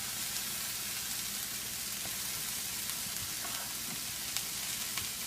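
Dry roasted peanuts heating in a stir-fry pan give off a steady, close sizzle with faint crackles and occasional light scrapes, with no talking.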